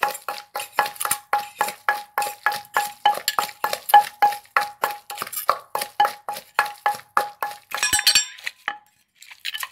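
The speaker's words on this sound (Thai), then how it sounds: "แล้วโขลก" Termite mushrooms being pounded for a green chili dip in a mortar, a steady rhythmic series of close, sharp knocks and clinks, about two to three strikes per second, with no talking.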